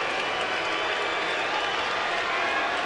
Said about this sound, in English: Here are the cheers, the applause, and the boos and the jeers for Manny Ramirez